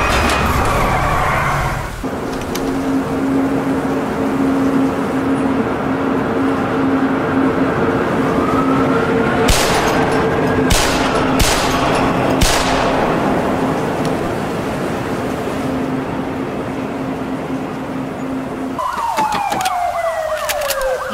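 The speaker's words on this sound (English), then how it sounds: "They're shooting at us." Police sirens wail in a video game car chase, a loud sweeping siren with sharp bursts of gunfire cracking through the middle and a skid near the end.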